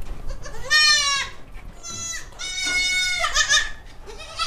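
Barbari goat kids bleat in several loud, high, wavering calls, some overlapping, with short quiet gaps between them and no speech.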